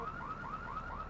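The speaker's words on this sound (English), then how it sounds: "I'm not sure why I decided to wait for the alarm there to stop" A car alarm blares in Grand Theft Auto III, a rapid repeating electronic warble that cycles steadily and sounds somewhat distant and muffled.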